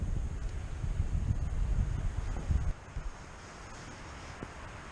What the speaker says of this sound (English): It is extremely windy up here.